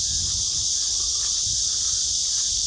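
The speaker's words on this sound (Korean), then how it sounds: "매미가 여러 종류의 매미들입니다." A dense, continuous high-pitched buzzing chorus of several kinds of cicadas fills the air outdoors, with faint low rustling underneath.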